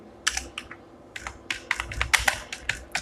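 Keys on a computer keyboard clatter in quick irregular bursts of taps, close and clear, while a blog post is written, with no voices.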